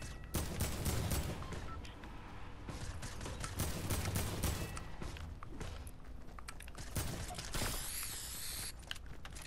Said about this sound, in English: Hey, stop shooting at me.